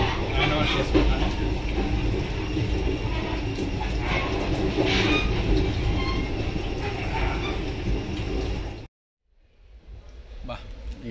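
Inside a passenger train carriage travelling from Palakollu to Hyderabad, a steady loud rumble and rattle of wheels on rails runs continuously, then cuts out abruptly near the end, leaving a quieter hum.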